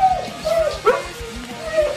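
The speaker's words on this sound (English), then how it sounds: "Dog, shut up." A dog at home yips and whimpers in short, high, close bursts, a few whiny barks spread over two seconds, loud and near.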